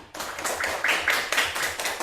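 A class claps for a student group after its score is announced, a brief burst of many hands clapping unevenly, moderately close, with no talking over it.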